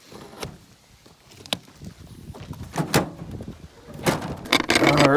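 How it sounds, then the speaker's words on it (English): An old drawer inside a truck is pulled open with scraping, rattling knocks and a few sharp clunks, nearby and moderately loud, getting busier toward the end. "I got the old drawer opened up"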